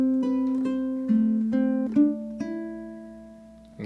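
Solo ukulele picks the melody of a song, a few clear plucked notes ringing and sustaining one after another, close and unaccompanied.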